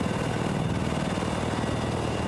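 Steady, loud helicopter rotor chop and engine drone in the video game Battlefield 6, continuous throughout with no break.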